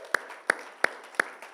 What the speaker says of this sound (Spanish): ¿Cuántos podemos darle un aplauso una vez más a Jesús?